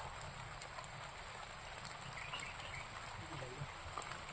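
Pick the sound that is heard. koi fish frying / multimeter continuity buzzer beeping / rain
rain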